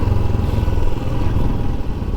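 Royal Enfield Himalayan 411 motorcycle at a steady cruise nearing a village, a continuous low engine drone with close thrum and light mechanical clatter and wind, alone without talk.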